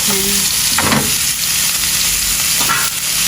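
Pangas fish fries loudly in hot oil, a dense constant sizzle up close, with brief stirring scrapes and no talking.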